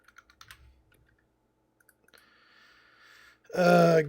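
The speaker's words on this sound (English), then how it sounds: "So I'm like typing ahead speculatively." A few scattered key clicks from a computer keyboard are heard while coding in an IDE, quiet and sparse, followed by a sudden louder burst of other sound at the end.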